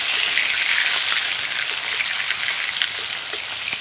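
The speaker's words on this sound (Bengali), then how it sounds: "এক পিঠ ভাজা হয়ে গেছে, আমি উল্টে আর এক পিঠ ভাজতে দেবো" Rohu fish fillets sizzle in hot oil in a pan after being flipped to fry the other side, giving a steady, bright crackling hiss that stays close and even throughout.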